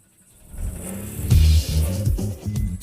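A car engine starts in the Steal a Brainrot video game, an abandoned car cranking up and then catching into a loud, rumbling idle with a few revs, close and alone.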